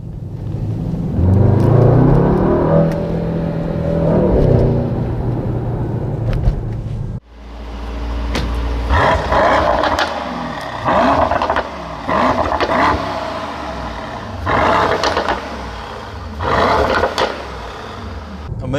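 A 2019 Mercedes-AMG GT 63 S 4-Door Coupe engine with open exhaust valves roars through several sharp revs, rising and falling in bursts, loud and close after a deep idle rumble.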